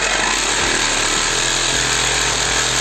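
Worksite CJS-326 cordless jigsaw saws through 8 mm iron rebar, a loud, steady, grinding buzz with irregular low knocks as the blade chatters against the steel.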